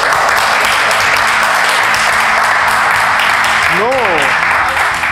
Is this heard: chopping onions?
no